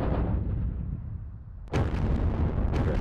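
Artillery fire in the Sealion '40 wargame: a dense, rumbling barrage with a sharp nearby blast partway through, followed by continuing heavy booms.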